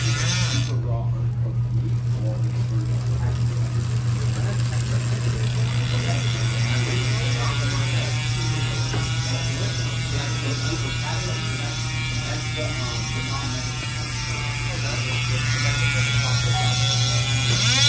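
Freehub body of a bicycle's Obermeyer Evo lightweight wheels ratcheting in a steady, fast, continuous buzzing click, close and fairly loud, over a constant low hum, with no talking.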